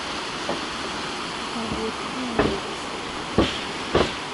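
A river in Johnston Canyon rushes below a suspension bridge, giving a steady, broad, close roar throughout, broken by a few soft knocks.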